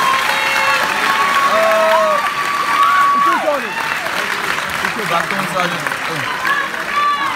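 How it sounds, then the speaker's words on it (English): An audience at a JROTC summer camp applauds, dense clapping filling the space with some cheering and whistles, voices calling out over it. "give them a round of applause"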